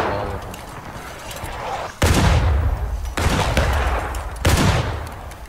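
Musket volleys crash out in a Civil War battle in War of Rights, three loud, ragged bursts of massed gunfire a second or so apart, each rolling into a long echoing tail.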